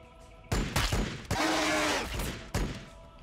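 Gunfire from Warhammer 40k Battlesector comes as several sharp, loud impact bursts, followed by a sustained noisy crackle lasting about a second, with no talk over it.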